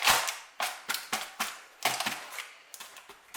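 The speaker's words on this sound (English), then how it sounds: "we now want to get our tin and just pick it up and bang it in there." Baking tin holding beer bread dough banged repeatedly on a kitchen counter, about a dozen sharp knocks in an uneven rhythm, close and fairly loud with no talking.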